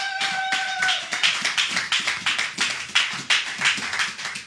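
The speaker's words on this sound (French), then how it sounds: "Acclamons pour la parole de Dieu." A church congregation claps in a rhythmic beat during a Holy Communion service, loud and close. Sharp, evenly spaced claps come in quick succession, with a brief sustained tone at the start.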